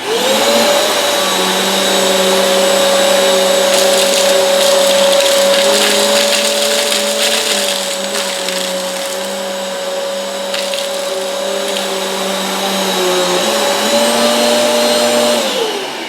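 Eureka Airspeed One upright vacuum cleaner running steadily on a floor while picking up flour, a loud continuous motor whine with slight pitch shifts as it is pushed back and forth, close and alone.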